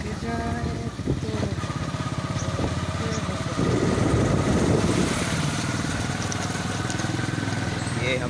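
A motorcycle engine drones steadily while the bike is ridden on a road, its buzzing mid-pitched hum swelling louder partway through, with someone talking over it throughout.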